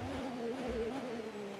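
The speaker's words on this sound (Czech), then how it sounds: "slyšíme i nové motory, které jsou v útrobách vozu" Formula 1 V6 engine in the F1 24 video game, a faint steady tonal drone of the car running, heard at a distance without talk.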